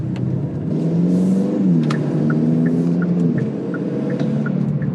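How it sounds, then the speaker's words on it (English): A turbocharged Hyundai Elantra engine revs under load with a steady whooshing, sucking intake sound and a low rumble, continuous and close throughout. "there's definitely sucking noise going on now"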